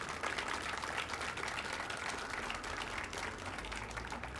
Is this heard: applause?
yes